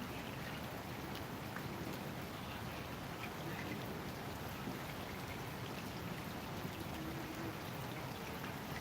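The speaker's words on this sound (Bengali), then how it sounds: "এই যে এখন একটু বৃষ্টি এবার নামতেছে একটু জোরেই" Heavy rain falls at night in Dhaka, a dense, steady hiss of drops on surfaces with no break, moderately distant and even throughout, with no voices.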